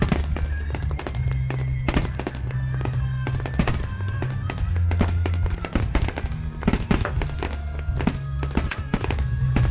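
Fireworks burst in rapid, irregular volleys, loud sharp cracks and booms piling up over a steady low rumble, with faint voices underneath.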